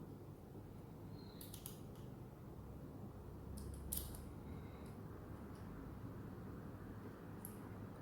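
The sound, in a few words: tightening a bolt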